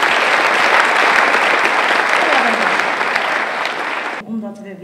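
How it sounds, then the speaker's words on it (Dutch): Dense, steady audience applause at a Spakenburg awards evening, loud and continuous for about four seconds before cutting off into a brief voice. "Dan geef hem een applaus"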